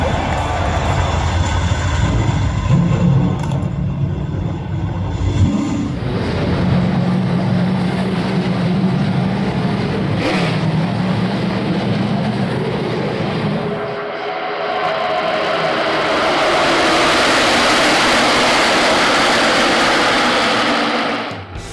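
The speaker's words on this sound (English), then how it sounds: "drivers, start your engines." Race car engines roaring at Daytona International Speedway at the start of the Beef It's What's for Dinner 300, a loud, continuous broadband drone with a crowd-like wash, swelling into a brighter, higher rush in the last seconds.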